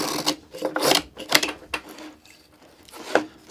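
A tuned-up Buck Bros hand plane shaving wood and tearing out slightly, several quick rasping strokes in an uneven rhythm, close and moderately loud.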